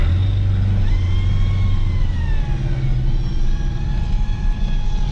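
A $350 Ford Ranger pickup's engine idles steadily and loud throughout, a deep continuous rumble with a faint whine rising and falling over it, no talk.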